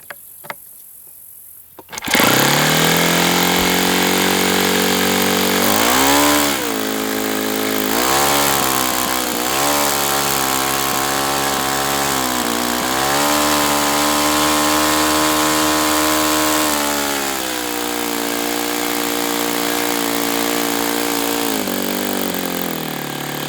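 An RCV 91CD model aircraft engine starts and then idles loudly and steadily close by, its rough, slightly wavering idle shifting in pitch as the mixture is leaned, with oil leaking from the engine.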